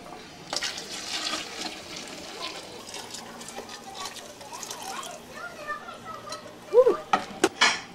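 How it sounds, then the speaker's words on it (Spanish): Hot water poured into a pot of homemade chicken soup with vegetables, a steady wet splashing and sloshing at close range, with a few sharp clinks of pot and utensil near the end. "Ahora vamos a introducir la agua caliente."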